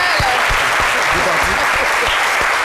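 Loud, continuous studio audience applause on a French-language talk show, a thick steady roar of clapping with a few louder claps and voices blended in.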